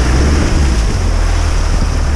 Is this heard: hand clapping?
no